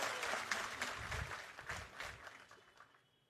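A crowd at an election campaign rally in Shirdi applauds, a fairly distant wash of clapping that gradually fades away.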